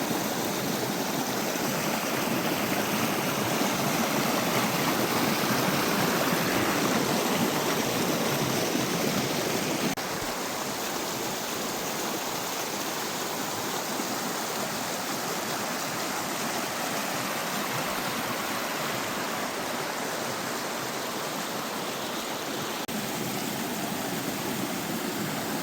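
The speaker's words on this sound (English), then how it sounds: "It's just waterfall after waterfall." Waterfalls and a flowing stream in Gheerulla Falls Valley fill the air with a steady, full rushing hiss of water. The sound is close and continuous, with no voices.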